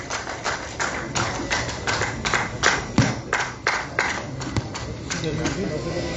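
Audience at an award ceremony at Jammu Club claps for a sports award recipient, with steady moderate hand claps running throughout while a voice talks over the applause.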